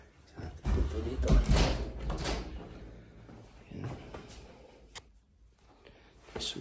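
A home door at the entrance near the kitchen being handled, with a clunk and sliding rattle followed by quieter handling noises, close by, amid quiet household background and a person speaking.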